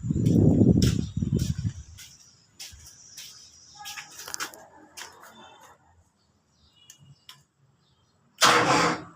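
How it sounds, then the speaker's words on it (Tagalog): A generator engine being started, with loud low cranking bursts at the start, then sputtering and a rattly mechanical run that fades to quiet ticks, followed by another loud burst at the end. "pandarin ko lang yung generator. Test natin."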